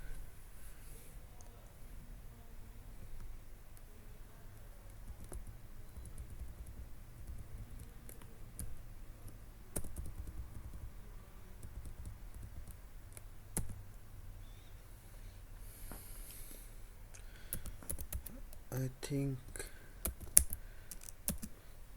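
Fingers type on a computer keyboard in a quiet lab, producing a faint, irregular patter of clicks that grows busier and sharper toward the end, with a brief murmured voice.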